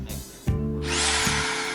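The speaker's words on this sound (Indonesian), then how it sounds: "Lalu selanjutnya kami akan mencontohkan mode bor biasa dan bor impact" An INGCO RH10508 rotary hammer drills in normal mode without impact: a brief knock, then the motor spins up into a loud, steady whirring grind with a slight dip partway through, close and alone.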